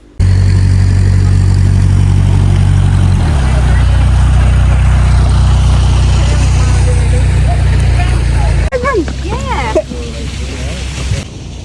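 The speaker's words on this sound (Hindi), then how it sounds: "ये देखें जनाब, एक और बोट आ चुकी है और ये भी लॉक्स की तरफ जा रही है।" A narrowboat motors along the Grand Union Canal toward the locks, its engine a loud, steady low drone that holds for most of the stretch, then drops to a lighter rumble near the end.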